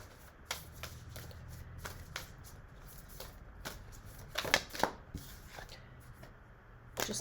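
Oracle cards being shuffled by hand, with soft riffling and tapping bursts in an irregular rhythm, close and quiet with no talking.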